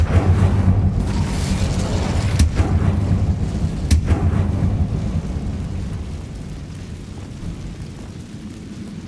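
A fiery spell blast in Hogwarts Legacy erupts with a loud booming burst, followed by sharp cracks and a rumbling roar that slowly fades away, with no talk over it.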